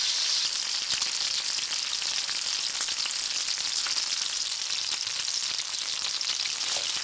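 Chicken thighs frying in a skillet, giving a constant bright crackling sizzle with fine spattering pops that runs evenly throughout, near and moderately loud.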